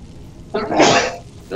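A single close, sharp sneeze bursts out with a breathy, explosive rush, preceded by a brief quiet moment.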